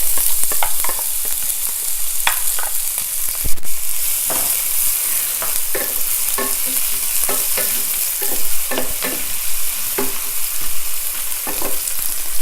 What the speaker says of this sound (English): This is fried. So I'm going to add the onions.